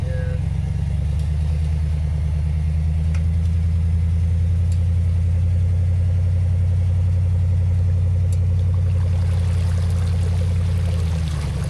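A 4x4 sits idling on a muddy trail at Italian Creek near Gunnison, Colorado, its engine holding a steady low rumble that runs the whole time, close and fairly loud, with a faint watery wash behind it.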